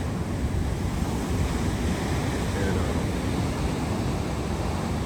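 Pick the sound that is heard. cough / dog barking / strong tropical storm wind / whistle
strong tropical storm wind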